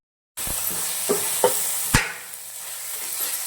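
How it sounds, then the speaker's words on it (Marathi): Tomatoes sautéed in oil with onions in a pan, a steady close sizzle that starts abruptly, with a few sharp clinks of a spatula stirring, no talking. "आता टमाटा टाकून टमाटा पण असं तेल सुटेपर्यंत परतून घ्यायचा"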